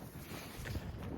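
Wind gusting across open ice during winter ice fishing in cold, roughly 20-degree weather, a steady low rumble buffeting the microphone with no voices.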